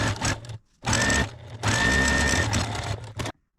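Close by, a sewing machine stitches a 1/2-inch seam in steady, loud whirring bursts, pausing briefly between runs and stopping at the end.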